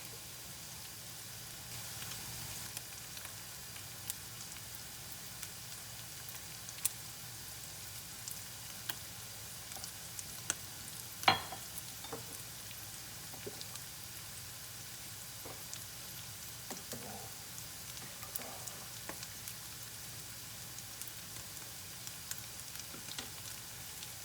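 Garlic cream sauce sizzling steadily in a non-stick skillet as wine deglazes the pan, a soft continuous frying hiss with occasional faint pops and stirring clicks, no talking.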